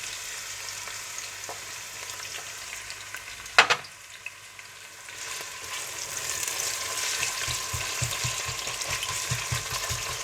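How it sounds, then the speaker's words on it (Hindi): Onions frying in hot oil for chicken tikka biryani, a continuous crackling sizzle with one sharp clatter of a spoon partway through, after which stirring scrapes and a fuller, rising hiss carry on steadily. "तेल गरम करें और इसमें प्याज डालकर गोल्डन ब्राउन करके"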